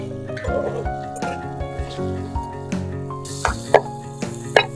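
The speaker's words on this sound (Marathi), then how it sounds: "आणि कांदा चांगला परतून घ्यायचा आहे" Finely chopped onion sautés in a pan with a pinch of asafoetida for a Konkan-style cashew usal, a steady close sizzle broken by spoon scrapes and clinks, with faint background tones.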